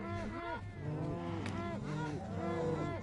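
Minecraft cows moo repeatedly in a Bedrock Edition farm, several overlapping low drawn-out calls from a herd with young calves, close and clear with no talking.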